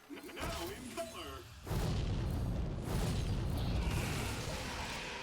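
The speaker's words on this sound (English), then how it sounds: "Explosions! Now in color!" A sudden loud, sustained explosive roar kicks in after a quieter opening, rumbling heavily like game-style blasts and staying dense to the end, from the video game Hearthstone.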